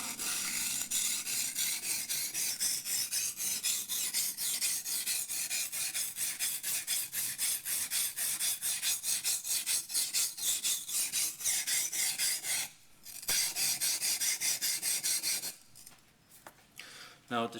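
A Yanagi knife's bevel drawn back and forth over a sharpening stone, producing a long, steady, closely miked gritty rasp that breaks off briefly twice near the end.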